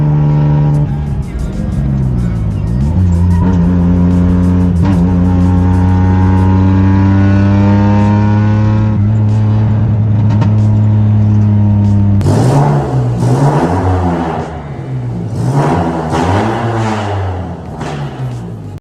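A supercharged Geo Metro accelerates hard through the gears, its engine note climbing in pitch and dropping at each shift, loud and close, ending in rougher bursts and sputters.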